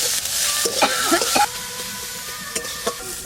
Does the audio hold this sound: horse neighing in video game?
no